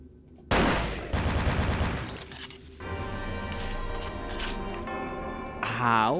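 Gunfire in Vampire: The Masquerade – Bloodlines comes as loud, close bursts of rapid shots, then a denser rattling stretch with clattering impacts, over a game soundscape.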